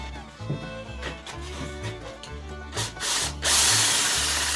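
Drill spins sandpaper against a worn part of an old Craftsman benchtop sander, giving rhythmic rubbing and scraping strokes over a pulsing motor whir, then a louder continuous grinding burst at the end.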